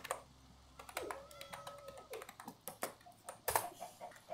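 Computer keyboard typing to write on a Minecraft sign, a quick irregular run of close, crisp key clicks with brief pauses, heard alone in a quiet room.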